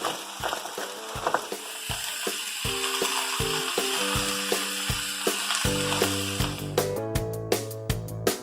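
Onions and carrots sizzle and fry for a stir fry, a steady close crackle with clattering stirring and mechanical clicks, growing busier toward the end.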